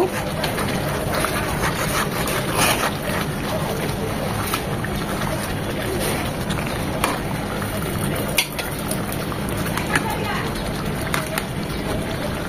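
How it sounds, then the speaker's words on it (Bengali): A whole chicken for morog musallam is stirred and cooked in a pan. The clip carries a dense, continuous sizzle with frequent scraping and clattering of a utensil against the pan, fairly loud and close, and no one talks. "এখন এটাকে উল্টিয়ে পাল্টিয়ে আর একটু নেড়ে চেড়ে 5-7 মিনিট রান্না করে নেব।"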